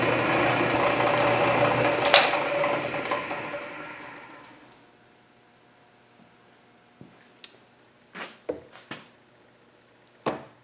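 A Canedy Otto drill press bores a hole in wood, its broadband cutting roar fading out over several seconds, followed by quiet and a few sharp clanks and knocks as chips and parts settle.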